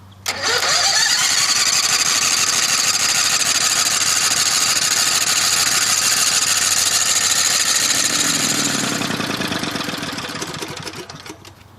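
A small lawnmower engine running on biogas sputters to life and runs loudly at a steady rate for several seconds, then slows and dies away near the end.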